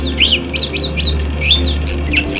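Several short chirping bird calls repeat over about two seconds, fairly close and clear above a steady low hum, with no talking in between.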